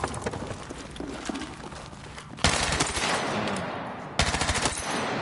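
Rapid automatic fire from an MPX submachine gun on a Battlefield 6 firing range, loud bursts of dense crackling shots running for several seconds, with sharper, louder bursts starting around the middle and again near the end.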